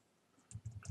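A short burst of computer keyboard typing, several quick close keystrokes in uneven rhythm after a moment of quiet, while entering an R plot command.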